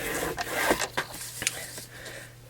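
A treat box is scored at measured marks, giving short scraping, rubbing strokes with a few sharp taps, close and fairly quiet over a low steady hum.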